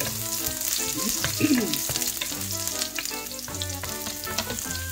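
Chopped garlic sizzles steadily in hot oil during a pork, broccoli and bell pepper stir-fry, a continuous crackling fry heard close up beneath background music.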